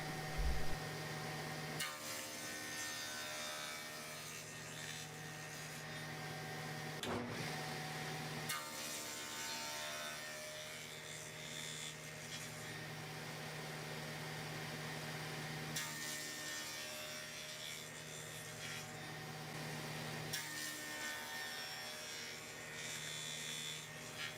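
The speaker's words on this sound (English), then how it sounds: "Now I'm adding the rabbet so it can mount inside the tabletop." A router or similar power tool cuts a rabbet into a planed wooden deadman for a Roubo workbench, a steady loud machine whine and hum running throughout with brief dips around seven and fifteen seconds.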